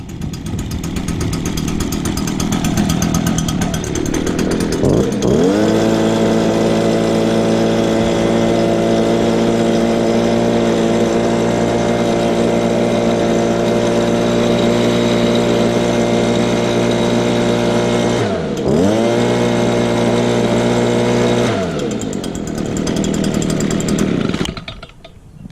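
A gas trimmer or blower engine roars loudly from start, revving up to a high steady whine, dipping briefly mid-run then surging again before cutting off at the end, close and alone.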